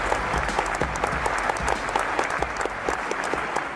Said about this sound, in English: So warm round of applause for Mr.